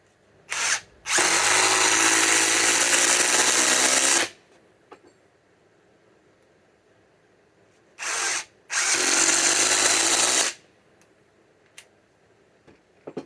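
A Ryobi cordless drill, compared against Flex batteries, whirs loudly in two bursts, each starting with a short blip followed by a few seconds of steady high-pitched motor whine, with quiet gaps and faint clicks between.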